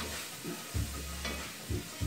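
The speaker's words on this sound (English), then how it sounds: "So these onions will just cook down for a few minutes" Onions sizzle steadily in a hot pan, a constant crackling hiss broken by a few soft stirring thumps, close and without speech.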